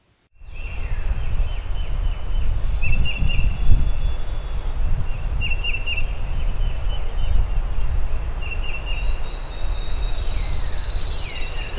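Wild turkeys calling from their roost in the woods, with several short bursts of gobbling at intervals over a steady outdoor background, moderately distant and never very loud.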